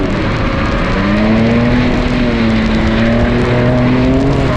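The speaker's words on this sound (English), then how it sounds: "Today, we're driving my 2024 Ford Ranger Raptor on a racetrack." A 2024 Ford Ranger Raptor pickup driven hard on a racetrack, its engine droning loud and close with a steady rising and falling pitch throughout and no one speaking.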